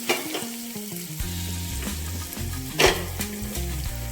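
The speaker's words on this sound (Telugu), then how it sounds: "3 ఎండుమిరపకాయలు, ఒక 5 పచ్చిమిర్చి, ఉల్లిపాయ వేసానండి. ఇవి చక్కగా ఎర్రగా వేగాలి." Dried red chilies, green chilies and onion frying in hot oil, a constant close sizzle with occasional stirring clinks of a utensil against the pan, no voices.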